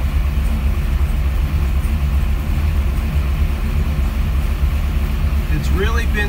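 A 1965 Dodge Coronet with an altered wheelbase idles after a cold start: a steady, close, unbroken low rumble that holds level throughout, with a faint brief higher sound near the end.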